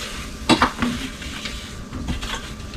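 Lobster pieces and wine being stirred in a skillet, a utensil scraping and clinking against the pan over a steady sizzle, close and continuous.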